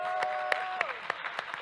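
Audience clapping at a university forum, a short burst of scattered distinct claps at moderate distance, with a faint voice trailing off underneath at the start.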